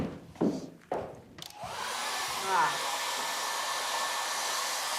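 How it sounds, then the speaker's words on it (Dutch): A hair dryer switches on after a few thumps and runs as a steady, fairly loud whoosh that continues unbroken to the end, with no talking over it. "Zal ik even een föhn halen?"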